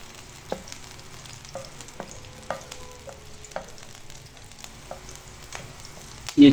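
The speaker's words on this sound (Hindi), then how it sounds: "घी गर्म हो चुका है। अब हमें इसमें 2 सब्ज़ मिर्च शामिल करेंगे।" Green chillies sizzle in hot ghee for a restaurant-style daal mash tadka, a steady close frying hiss with light stirring clicks and taps, ending in a louder clatter.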